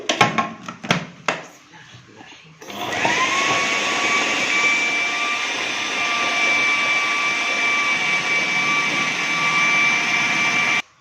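Electric blender whirring steadily at high speed as it grinds garlic and coriander together, preceded by a few clattering knocks as the jar is set up, then a loud continuous whine until it cuts off.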